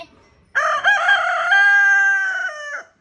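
A rooster crows loudly and close by, one long cock-a-doodle-doo with a rising start and a held, wavering final note, fading out at the end.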